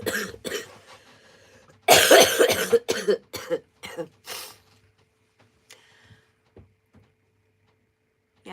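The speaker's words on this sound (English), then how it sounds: "Don't start me coughing." Several harsh coughs from a nearby adult, clustered in bursts and then trailing into a few quieter throat-clearing coughs and pauses, indoors during a live broadcast.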